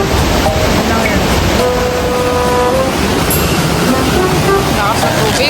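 A strong river rushes near a waterfall on Sibuyan Island, Romblon, a loud, dense, continuous roar of water filling the whole scene at close range.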